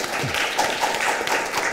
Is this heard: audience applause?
yes